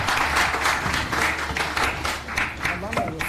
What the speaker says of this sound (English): A warm round of applause for him.